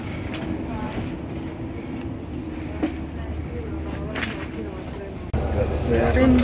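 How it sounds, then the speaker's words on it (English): A Frecciarossa high-speed train in Italy rumbles steadily along the track from inside the carriage, with a low continuous roar and faint clicks, growing louder near the end. "Prende freccia rossa train now. It's the fastest train in Italy"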